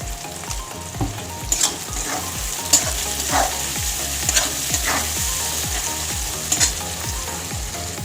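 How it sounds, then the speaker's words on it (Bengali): Capsicum sizzling in a hot pan with a pinch of salt, frying steadily while a spatula stirs in a quick repeating rhythm, scraping clicks standing out over the continuous crackle, close and fairly loud with no talking. "ক্যাপসিকামটা একটু ভেজে নেব"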